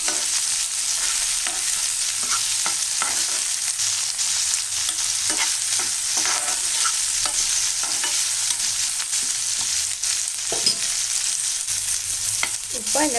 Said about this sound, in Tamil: இந்த வெங்காயம் தக்காளிலாம் கொஞ்சம் நல்லா வதங்கி வரட்டும்.